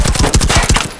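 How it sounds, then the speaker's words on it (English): Rapid automatic gunfire in the tactical shooter Firewall Zero Hour, a loud burst of closely spaced shots with a steady rhythm that tapers off near the end. "He's already shooting. He's already hitting me."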